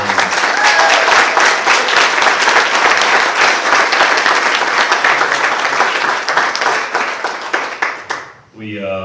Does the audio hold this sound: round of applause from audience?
yes